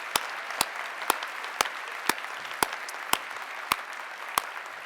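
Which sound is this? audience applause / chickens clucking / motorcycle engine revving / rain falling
audience applause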